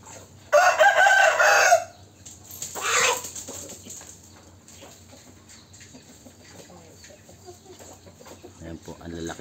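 A Shamo Aseel rooster gives a loud, close crow early on, followed by a second, softer crow; faint farmyard background noise continues afterward.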